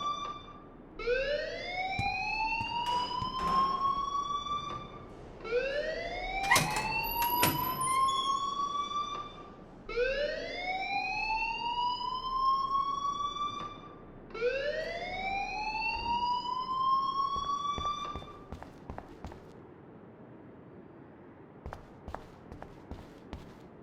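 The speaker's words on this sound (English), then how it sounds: "please turn off that alarm since that's your job" A rising, wailing electronic alarm rings inside a school building in the video game Life Is Strange, four long upward sweeps repeating at a steady pace, loud and close, with a few sharp knocks and clatters between them and no talk.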